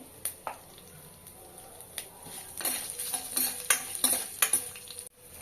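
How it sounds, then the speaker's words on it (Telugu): Curry leaves and chopped green chillies fry in hot oil for upma, giving a gentle sizzle under a run of brisk spatula stirs and metallic scrapes that grow busier toward the end. "ఇలా ఇవి ఫ్రై అవుతున్నప్పుడు ఒక రెమ్మ కరివేపాకు ఇంకా ఈ పచ్చిమిర్చి తరుగు ఇవన్నీ వేసి ఫ్రై చేసుకోవాలండి"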